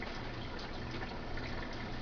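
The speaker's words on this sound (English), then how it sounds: "let's turn on the water because I'm going to need to wash my hands" A kitchen tap runs in a steady, close rushing stream for about two seconds, with no talking over the even wash of water.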